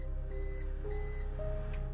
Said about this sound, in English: heard the beep of the microwave